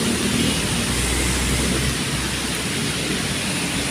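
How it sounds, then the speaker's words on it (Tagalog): Heavy rain pours steadily outdoors near Trinoma in an overcast city, a loud, dense, unbroken hiss with a low rumble underneath and no voices. "Lumabas ang ulan pala dito"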